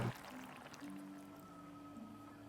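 Remaining thick coconut cream pours into a pineapple and mussel curry, a soft steady liquid pour with a faint tonal hum underneath, close and continuous throughout.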